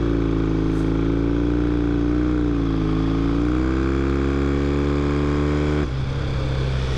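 A 1965 Triton motorcycle ridden through turns, its engine droning loud and close with a steady deep note that dips and rises before easing off near the end, with no talking.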